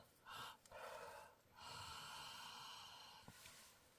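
A person sniffs at orange-scented food in a Beamish Museum fish and chips takeaway, taking several close, loud, drawn-out sniffs in a row.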